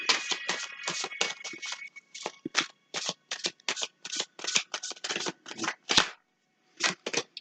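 Tarot cards being shuffled by hand in repeated quick riffling bursts, close and crisp, with short pauses between some bursts near the end.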